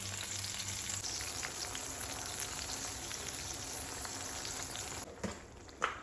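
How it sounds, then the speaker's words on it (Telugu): Tamarind puree boils in two spoons of hot oil in a pan, a steady close crackling sizzle with fine popping bursts that continues evenly, with a couple of small clinks near the end. "ఇది ఉడుకుతోందండి చింతపండు పులుసు."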